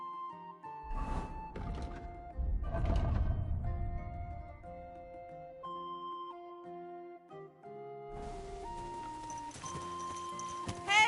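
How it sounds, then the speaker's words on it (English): Horse hooves thud and clop in the medieval game Kingdom Come: Deliverance II, a few heavy steps clustered early and again later, mixed with sustained musical tones from the game score. "Do you want that horse to trample me?"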